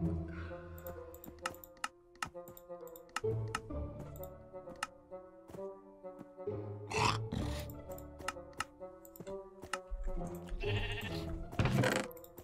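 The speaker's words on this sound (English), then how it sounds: "Oh my gosh, another sheep." Sheep bleating in the Minecraft video game, several wavering bleats heard over game background music and keyboard clicks, fairly close and moderately loud.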